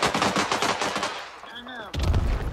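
Gunfire in the video game Rogue Company during a Demolition match, rapid automatic bursts of shots, then a short pause with electronic tones and a final heavy burst.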